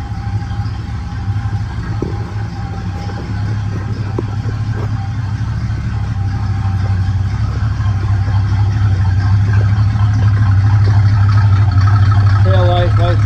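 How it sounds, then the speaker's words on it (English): A 1973 Plymouth Road Runner 340 engine idles steadily with a low, rumbling exhaust, growing slightly louder over time, while a person talks nearby. "Exhaust sounds nice."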